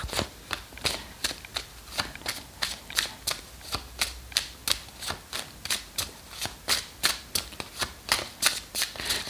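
Tarot cards being shuffled, a steady run of crisp riffling flicks repeating in a brisk rhythm, close and clear, with no talking over them.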